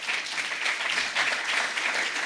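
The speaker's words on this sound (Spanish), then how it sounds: "Ese es un aplauso de queja" Steady audience applause at a lecture in the National Library of Argentina, dense and sustained from start to finish, with no voices standing out.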